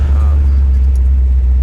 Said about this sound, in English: the exhaust is just a little loud, like at an idle like this